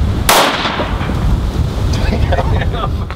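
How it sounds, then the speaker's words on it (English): One sharp rifle shot fired at a target on a shooting range, a loud broadband crack that decays into a rumbling wash of noise. "So I was able to shoot 3 shots on the first target"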